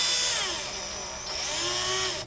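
A power drill turning a bolt to pull a shaft off a garage door pulley whines steadily, its pitch dipping and rising under load, then cutting off abruptly at the end.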